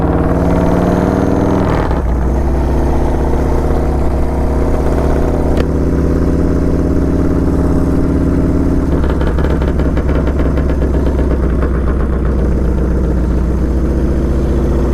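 Harley-style Sugar Bear Springer motorcycle engine rumbling steadily while riding along, a continuous close low drone with a brief shift in pitch early on and a clattering mechanical texture later, no talk.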